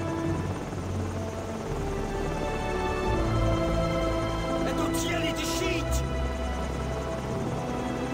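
A steady, loud helicopter rotor drone in the video game Call of Duty 4: Modern Warfare fills the whole stretch, thick and unbroken, with a brief higher rushing burst near the end.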